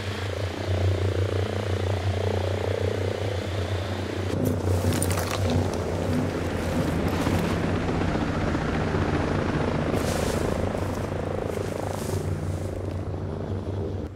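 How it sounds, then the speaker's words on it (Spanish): A helicopter in the video game Ghost Recon Breakpoint thrums loudly and continuously nearby, its rotor churning steadily, with a few brief higher swishes layered over the drone. "Cuando usted escuche el helicóptero que está cerca."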